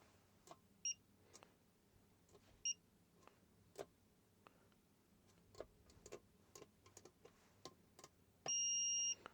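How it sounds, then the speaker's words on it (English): A Brymen multimeter on diode check gives two short, quiet beeps early on, then a longer steady beep near the end, among soft clicks and taps of the probes, with no talking. "That's one of the features that I really like to see in a multimeter, is that little short beep on the diode check."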